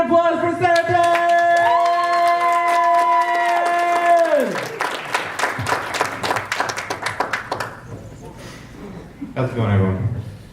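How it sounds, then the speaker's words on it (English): An open-mic stage audience at a fan convention breaks into a burst of clapping and cheering that swells and then fades. It follows a sustained tonal sound, and talk runs around it. "Everyone give a round of applause for Saraton!"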